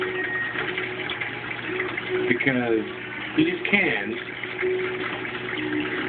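Water steadily pours and splashes into cans in an aquaponics sump system, a continuous rushing hiss under a voice as he talks.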